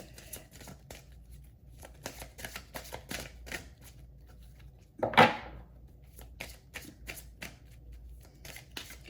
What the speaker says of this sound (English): I'm gonna pull some indigo angel cards